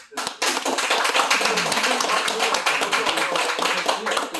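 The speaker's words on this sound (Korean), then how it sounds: "다시 한번 박수 한번." Audience applauding at a church visit gathering: dense, steady clapping that starts abruptly after a brief pause and holds loud and close for several seconds, with a voice briefly under it.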